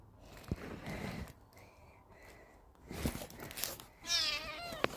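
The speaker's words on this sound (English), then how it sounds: "Here's the cat." A grandfather's cat, nervous indoors, gives a couple of short meows and then one longer, wavering meow near the end, close and fairly clear, among soft rustling.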